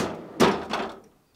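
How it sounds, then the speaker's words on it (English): The freezer door of a GE French door refrigerator swings open with a muffled thunk, followed by a second softer knock as it settles, fairly close and with no voices. "Start by opening the freezer door."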